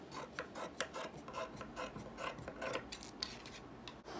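Scissors cut away leftover fabric from a homemade toaster cover, giving a steady series of close, soft rasping snips and rubs with no talking.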